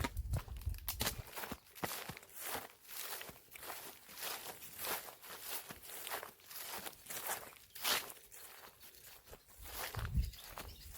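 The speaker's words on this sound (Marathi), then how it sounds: "ही पायवाट आहे आणि ह्या पायवाटीनेच मी चाललो आहे." Steady footsteps crunch along a dirt forest path, an even walking rhythm of soft scuffs and crackles, close and fairly quiet.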